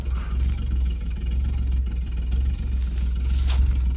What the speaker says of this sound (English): Get the exhaust sound.